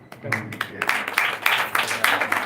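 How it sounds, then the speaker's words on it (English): A person clapping hands during a Gita course session, a quick run of sharp, close claps building into a brisk rhythmic burst that continues to the end. "I should clap for this."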